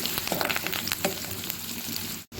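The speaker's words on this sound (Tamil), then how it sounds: "வரமிளகா கிள்ளி எடுத்துருக்குங்க இதை சேர்த்துக்கலாம் சேர்த்துட்டு நம்ம நல்லா கலந்துக்கிட்டு வதக்கி விட்டுக்கலாம்" Curry leaves and dried red chillies sauteing in hot oil for a salted lentil dish, giving a dense, steady close-up sizzle with small crackles and a stir or two, broken by a momentary gap near the end.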